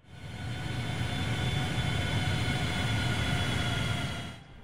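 A QualityWings 757 airliner on final approach in FSX gives off a steady, loud engine roar with broad rumbling noise and faint tonal whine, sustained throughout before easing off at the end.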